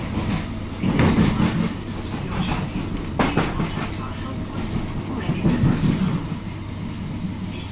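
A British Rail Class 321 electric train rumbles steadily along the rails from inside a carriage, approaching London Liverpool Street from Stratford, with rhythmic clacks and a low droning hum throughout.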